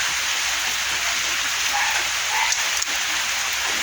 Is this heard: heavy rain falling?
yes